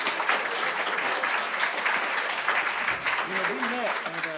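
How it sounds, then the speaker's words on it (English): An audience at a November business forum panel applauds, a dense, continuous clapping that holds steady throughout, with a voice briefly audible near the end. "Another round of applause."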